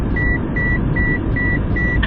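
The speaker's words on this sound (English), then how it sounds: "I feel like I should wait until that beeping stops." A car seatbelt warning chime beeps at an even pace, five short tones in a row over a low engine-like rumble inside the vehicle.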